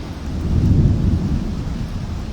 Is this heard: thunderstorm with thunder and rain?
yes